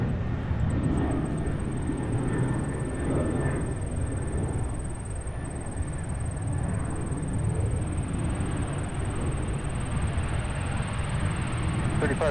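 An airplane takes off from runway 17 at Minneapolis–St. Paul airport with a steady, broad jet roar that holds at an even level throughout, with no voices over it.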